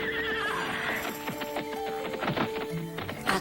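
A big white horse neighs and whinnies loudly and close, with hooves clip-clopping around it and no voices.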